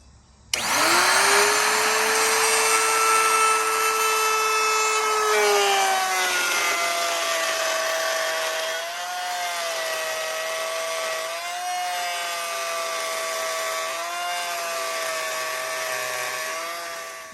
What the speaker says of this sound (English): using a router with a pilot bit, we're going to trim the wheel to diameter of the actual fixture